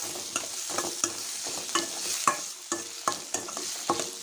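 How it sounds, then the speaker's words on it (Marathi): Finely chopped carrots and potatoes stir-fried with cooked onions and tomatoes: a steady sizzle under quick, repeated scraping strokes of a spatula in the pan, close and without any talk. "तर आता आपण गाजर आणि आलू टाकूया बारीक चिरलेला छान फिरवून घेऊया"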